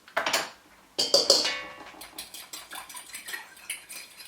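A spoon mixes two tablespoons of milk in a bowl for Welsh Glamorgan sausages, giving a run of sharp clinks and taps against the bowl, louder at first, then lighter and more rapid, with no talking.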